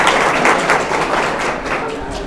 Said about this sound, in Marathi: मॅडमसाठी जोरदार टाळ्या